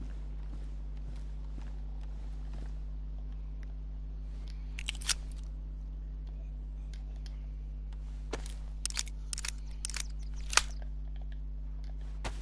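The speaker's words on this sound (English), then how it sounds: "We'll get this magazine reloaded." Rounds loaded into a gun magazine in the video game DayZ, a series of short metallic clicks and scrapes, sparse at first and then clustered, over a steady low hum, no talking.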